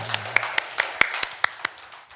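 A church congregation claps at the end of a Sunday sermon, a scattered round of distinct hand claps that gradually thins out, with a brief low hum at the start.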